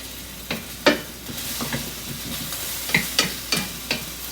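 Onions for chicken fajitas sizzle in a hot pan, with a soft steady frying hiss broken by several sharp scrapes and clicks as they are stirred around, and no voices.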